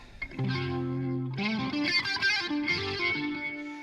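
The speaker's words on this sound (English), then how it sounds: "Now, I'm going to put this distortion back on" An electric guitar played through a distortion pedal in a stereo rig rings out alone with thick, sustained chords that shift into brighter, gritty strummed notes, loud and close throughout.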